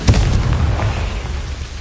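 A booming explosion spell from a fantasy wizarding game bursts with a sharp, heavy blast at the start, then a rumbling low decay that trails off over a couple of seconds.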